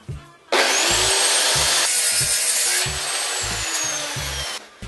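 A hand saw cutting a wooden board for building a Kenyan top-bar beehive: a loud, close rasp of continuous back-and-forth strokes, each stroke marked by a low thump, with no talk.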